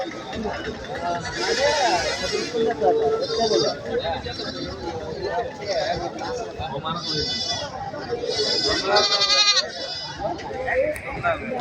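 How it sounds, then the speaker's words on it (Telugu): Goats bleat repeatedly amid a busy crowd, their wavering cries rising over a constant murmur of people talking. "మేకలు"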